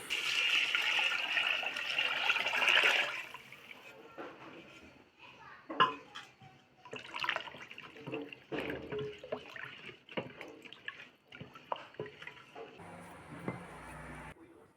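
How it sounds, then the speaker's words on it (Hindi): Lassi poured into a pan of prepared kadhi masala for kadhi pakora, a steady liquid pour and splash loud at first, then fading into stirring, clinks and kitchen clatter with a voice in the background. "मसाला मेरा तैयार हो चुका, अब लस्सी डाल देते हैं।"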